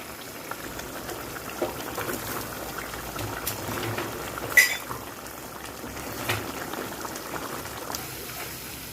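Long beans with red curry paste and pork belly cook in a pan with a little added water, giving a low, steady bubbling sizzle with occasional soft clinks and stirring taps.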